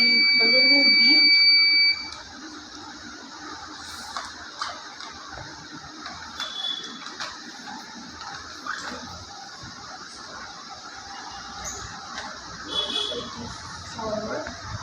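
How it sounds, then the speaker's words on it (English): A buzzer on a remote-controlled robot car with a safety feature gives a loud, steady high-pitched beep for about two seconds at the start, then stops, leaving quieter room noise and clicks. "the buzzer will beep"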